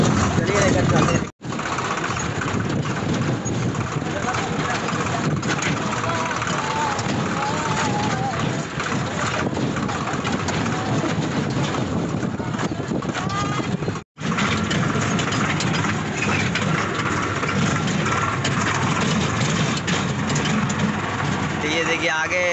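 A Swaraj tractor engine runs steadily while being driven, a continuous loud rumble with wind noise filling the whole stretch, broken only by two brief dropouts.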